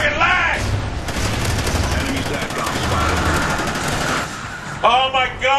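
Sustained rapid automatic gunfire in the video game Call of Duty: Ghosts rattles loudly and continuously for several seconds, with a voice shouting briefly at the start and end.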